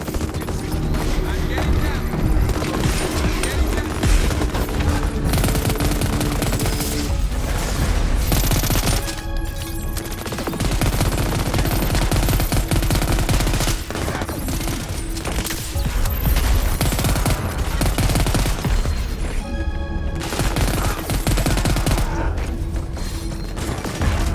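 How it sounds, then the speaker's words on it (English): A machine pistol in Crackdown 3 fires in long, dense bursts of rapid gunfire, loud and close, with booms and mechanical clatter mixed in and a voice speaking at times. "This machine pistol is all about filling the air with lead at close range."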